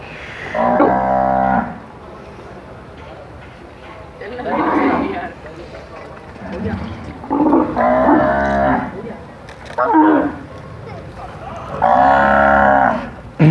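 Cattle at a Pakistani cattle farm moo repeatedly, deep drawn-out calls rising one after another at close range over a steady background murmur, with people talking nearby.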